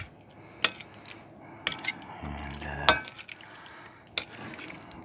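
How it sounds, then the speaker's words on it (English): A spoon works mayonnaise into tuna salad in a bowl, with soft wet squelches, sharp clinks against the dish, and a short low rumble partway through, quiet and close with no talk. "Right, and then we give it a good stir around"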